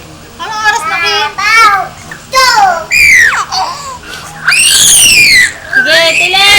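Children shriek and squeal in high, piercing bursts at a birthday party with friends, several loud screams following one another with chatter between them.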